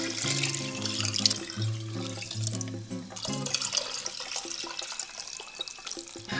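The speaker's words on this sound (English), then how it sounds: "I'm going to fill up my bowl with hot water" Hot water running from a kitchen tap into a bowl: a steady, close gush that shifts in pitch as the bowl fills, with no talking.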